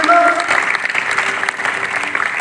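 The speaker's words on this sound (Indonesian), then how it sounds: "Tepuk tangan yang paling meriah bagi anak kita." Lively applause from a church congregation for a child fills the room, a steady dense clapping with crowd voices mixed in, fairly loud and sustained throughout.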